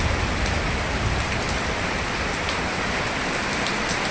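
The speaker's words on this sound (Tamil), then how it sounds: "இப்படி மழை போட்டு தாக்குன்னு தாக்குது." Heavy rain pours down steadily on the climbing trail up Sri Pada (Adam's Peak) in Sri Lanka, a loud, dense, unbroken hiss of falling water with no voices.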